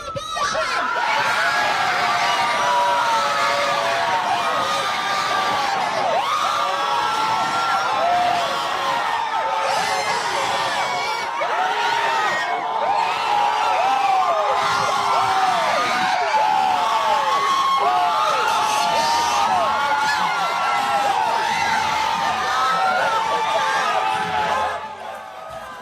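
A large crowd outside the Supreme Court reacting to Roe v Wade being overturned, a dense sustained roar of shouting and cheering voices with whoops rising above it, loud and continuous throughout.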